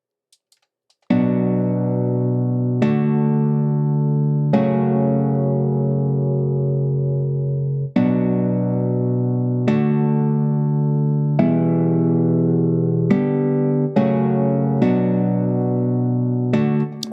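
Nylon-string guitar chords from MIDI, played back in Cubase 11: a series of sustained strummed chords, each decaying until the next, about nine in all at an uneven pace, alone with no voices.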